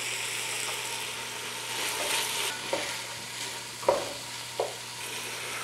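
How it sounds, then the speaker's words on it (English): Coarsely chopped whole onion sizzling in a pan, a steady close hiss of frying with occasional stirring scrapes and clinks over a low background hum. "I've got a whole chopped onion, coarsely chopped, and it goes in on top of that. And I'm going to let that cook down for about 3 minutes."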